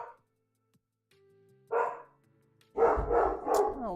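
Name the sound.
dog barking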